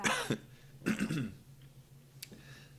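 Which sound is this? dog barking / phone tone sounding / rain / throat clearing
throat clearing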